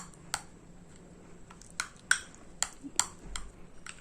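Fruit face mask ingredients stirred in a bowl, heard as sparse, sharp clinks and taps of a utensil against the bowl, irregularly spaced over a faint background hiss.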